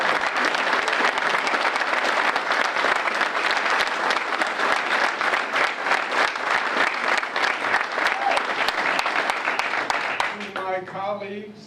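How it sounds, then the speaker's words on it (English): Sustained loud applause from a large audience at a downtown revitalization press conference, dense clapping that holds steady for about ten seconds before fading into a voice. "let's give him a big round of applause"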